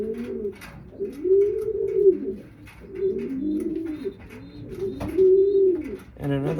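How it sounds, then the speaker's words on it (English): A racing pigeon kept for breeding coos in repeated soft rolling phrases, close and clear, with brief faint sounds between calls. "so this is an ideal pigeon for me for breeding"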